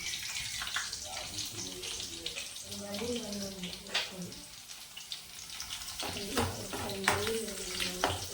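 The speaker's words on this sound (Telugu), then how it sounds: "చక్కగా ఆయిల్ పెట్టానండి చక్కగా కాగింది ఫస్ట్గా వెల్లిపాయ నాలుగు వేస్తాను" Four garlic cloves dropped into well-heated oil sizzle and crackle steadily at close range, with stirring and occasional clatters of a utensil, while a voice talks quietly in the background.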